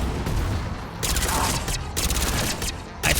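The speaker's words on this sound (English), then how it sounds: "I fucking hate burst fire." A burst-fire weapon in Mass Effect Legendary Edition fires clusters of quick shots in rhythmic groups over ongoing battle noise, loud and close, with no speech.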